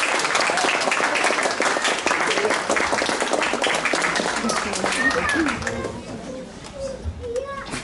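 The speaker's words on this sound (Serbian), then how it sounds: "Pozdravimo ga aplauzom." Applause from a school ceremony audience greeting a student performer, dense sustained clapping at close range that thins and fades toward the end, with children's voices mixed in.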